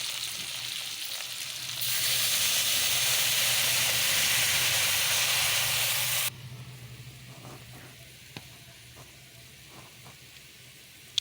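Already-fried fish being sautéed for curry hisses in a loud, steady sizzle for about four seconds, then drops abruptly to a quieter simmer with occasional light stirring taps, no voices.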